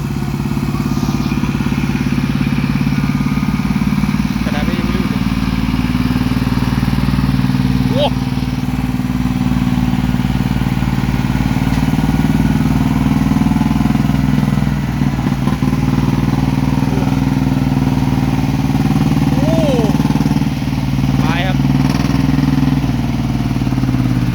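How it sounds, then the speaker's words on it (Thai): A farm tractor's heavy diesel engine chugs steadily at low revs, pulling through mud after heavy rain, with a rough, labored drone and occasional faint clanks in the background. "ต้องเอารถไถลากขึ้นมาเลย"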